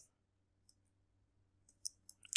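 Typing on a computer keyboard: near-silence at first, then a few quick, crisp key clicks cluster toward the end, close by and fairly quiet, with no talking.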